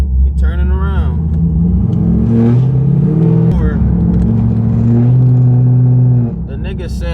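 A cammed, straight-piped Pontiac G8 revs loudly up close, its exhaust note rising and falling through several rumbling pulls, with a voice talking over it.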